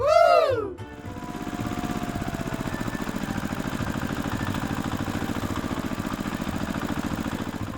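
A farm tractor engine hums steadily with a fast, even chugging rhythm, close by and continuous after a brief sliding tone at the start.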